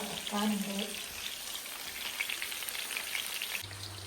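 Fish, sardines and mackerel, frying in a pan at home, a steady close sizzle and crackle running the whole time with a few faint clinks early on.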